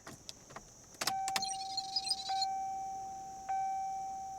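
Chevy Malibu with an immobilizer fault, key turned in the ignition: clicks and a clink, then a steady electronic tone that runs through the clip, broken by a second click partway.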